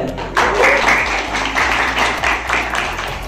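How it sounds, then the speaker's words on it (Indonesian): A brief burst of audience applause for a guest at a public speaking class in a shared workspace, moderate clapping with a low hum beneath, fading quickly. "Kalian tepuk tangan sekali lagi dong buat Ratih, boleh?"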